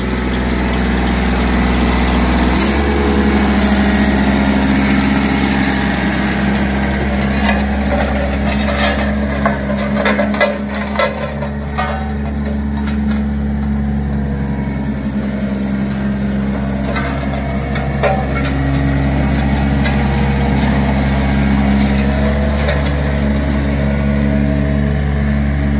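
An articulated Sakai soil compactor roller with a steel front drum, rubber rear tires and an Isuzu diesel engine runs forward and backward with vibration off, its loud engine droning steadily and close throughout.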